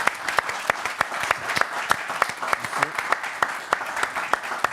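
A French television studio audience applauds two impersonators, brisk steady clapping with distinct sharp claps close by, continuing evenly throughout.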